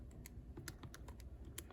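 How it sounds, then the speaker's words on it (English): Quick, light key presses on a calculator keypad tap out a rapid irregular series of soft clicks, close and quiet over a low background hum. "typing this in on our calculator"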